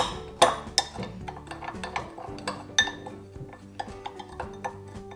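A spoon scrapes and clinks against a bowl while chaat ingredients are mixed with amchur and chaat masala, giving irregular close taps and rattles, with no talk.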